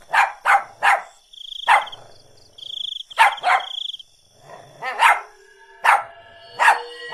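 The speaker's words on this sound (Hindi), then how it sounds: "वो उसकी तरफ देखकर भौंकने लगता है" A dog barks repeatedly at night, the sharp barks coming in irregular bursts of one to three, loud and close, with a faint cricket-like chirp and a thin tonal whine between them.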